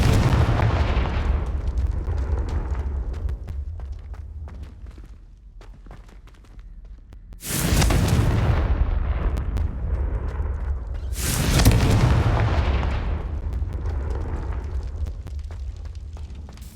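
Confringo fire spells exploding in the Hogwarts Legacy video game: two loud, sudden blasts about four seconds apart, each followed by a rolling rumble, over a steady low background din with no talking.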